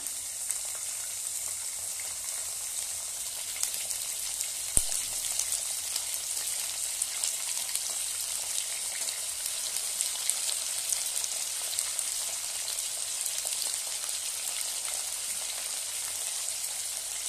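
Food frying lightly in a pan, a steady, even sizzle that carries on unbroken at moderate loudness, with a single soft knock partway through and no talking.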